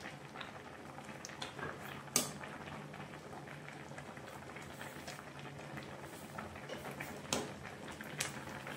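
Spinach soup with vegetables bubbles at a steady boil, a continuous soft gurgling simmer with occasional louder pops and clinks, close and alone without talk.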